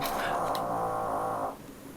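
A cat's low, steady snoring drone, close by, lasting about a second and a half before fading to quiet background.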